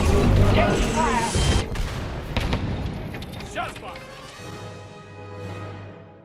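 Star Wars Squadrons starfighter taking fire in a space dogfight: loud rapid bursts of laser blasts and booming impacts crowd the opening, then thin into scattered hits over a low engine drone.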